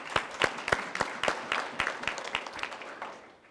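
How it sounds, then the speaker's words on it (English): Applause from a small audience at a press event introducing an inspector general: a few sharp, distinct claps in a loose rhythm that thin out and fade over about three and a half seconds. "So let's give him a round of applause, please."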